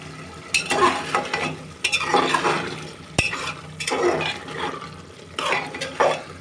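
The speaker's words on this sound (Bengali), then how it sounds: "ভালোভাবে আমি মাংসটা কষিয়ে নেব" Chicken pieces with spices being sautéed in a pan for a turnip curry, stirred in bursts with sizzling and scraping of the spoon against the metal, close and fairly loud with brief clinks between strokes.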